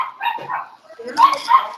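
Dogs barking in short yapping bursts, a couple of sharp barks near the end, with people talking over them during an online class session.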